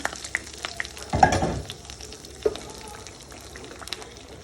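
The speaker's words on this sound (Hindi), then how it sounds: "अब इसके ऊपर मैंने ये तेज़ पत्ता और ये जीरा और बटर इसका तड़का दे दिया।" A short burst of sizzling as bay leaf and cumin hit hot butter, followed by soft crackling and light spitting that fades into quiet.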